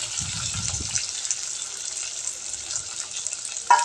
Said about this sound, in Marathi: जिऱ्यानंतर जे मिरच्या घेतलेल्या होत्या त्या मिरच्या टाकल्या आणि छान तळून घ्यायचे आहेत